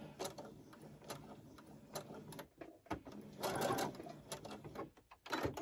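A sewing machine back stitches a hooded towel, running in short start-stop bursts of rapid mechanical stitching, close and fairly loud.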